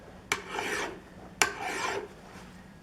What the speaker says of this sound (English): let's just take and kiss this with a file a little bit